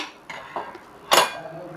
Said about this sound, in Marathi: आता आपण परत तवा ठेवूया